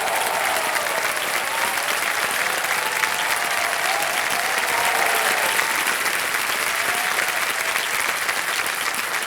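Sustained studio audience applause for a quiz show contestant on Kaun Banega Crorepati, a dense, steady wash of clapping that holds at an even, loud level throughout.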